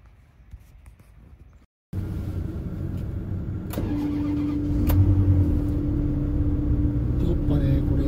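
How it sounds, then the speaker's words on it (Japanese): A Ferrari 360 Modena's engine starts: quiet at first, then an abrupt switch to a steady idle rumble that grows slightly louder, with clicks and a faint whine over it. "やっぱねこれエンジン調子いいですよ、かけるときとかなんかね前よりもスムーズにかかる気がするんだよ"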